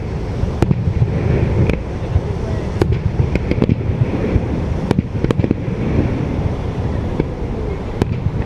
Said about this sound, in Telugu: ఫైర్ వర్క్స్ చూసినాం.